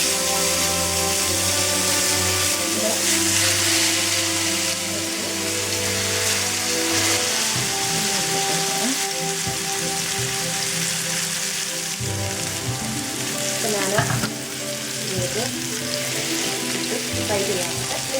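Fish for a homestyle fry sizzles in a pan, a steady, dense hiss that stays loud and continuous throughout, with a faint tonal hum running underneath.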